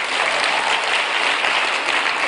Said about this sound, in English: give the Lord, great gracious Lord, a big clap for him